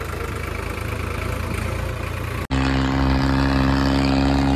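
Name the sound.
tractor engines idling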